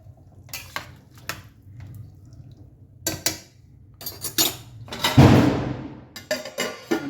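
Sweet corn vegetable rice being stirred in a pot, a spoon scraping and clinking against the metal in bursts of close kitchen clatter, with quieter gaps between strokes and no talking.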